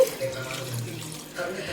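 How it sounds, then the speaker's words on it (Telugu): Water pours steadily into a pot of chicken curry for about two seconds. The pour is close and moderately loud, with a faint kitchen background. "ఆ గిన్నెలో ఎంత వాటర్ పోసుకున్నానో ఆ వాటరు ఇందులో వేసేయాలి"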